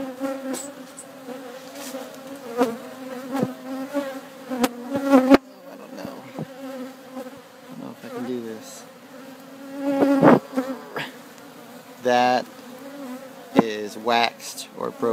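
A honeybee swarm buzzes inside a barbecue grill, a dense steady drone of many bees heard up close, rising and falling in pitch with sharper bursts as individual bees fly near, with no talking.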